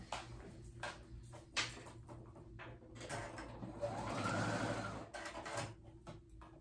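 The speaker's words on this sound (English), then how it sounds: "So we're gonna do it with the sewing machine first." A sewing machine runs a straight stitch along a sweater's shawl collar, its needle chattering in short bursts and then one longer steady run, close up and alone.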